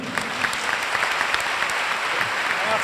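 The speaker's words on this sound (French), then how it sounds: "qu'on l'applaudit s'il vous plaît" Audience applause at a graduation ceremony for agents, a steady stretch of clapping at moderate volume with a voice faintly audible beneath it.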